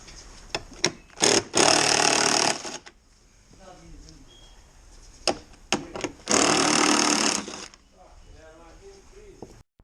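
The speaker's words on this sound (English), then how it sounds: "I'm using the electric drill." Two bursts of a whirring electric drill removing screws from a BMW i3 rear bumper, each lasting about a second, separated by quiet clicks and handling noises of tools.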